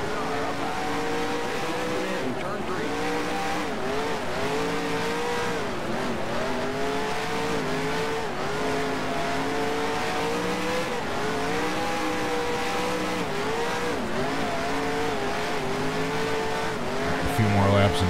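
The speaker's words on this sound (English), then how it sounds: "we got a wreck with Greg Alding and Truex" Race cars roar at steady high revs around the dirt oval at Eldora Speedway in a NASCAR Cup Series racing video game, tires squealing and skidding through a wreck, with a voice talking over the continuous engine drone.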